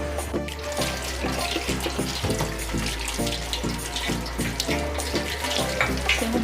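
Tap water runs steadily into a kitchen sink while boiled mutton liver is rinsed, a continuous close splashing gush with irregular clunks and shifts as the pieces are handled, no talking.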